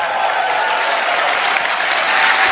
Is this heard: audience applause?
yes